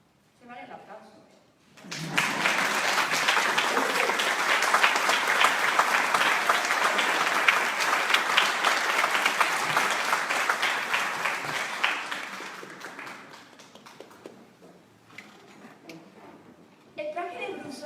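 Audience applause after a public reading aloud of a literary text breaks out suddenly and fills the room, a dense, steady clatter of many hands that holds strong, then thins and tapers off, with a brief renewed burst at the end.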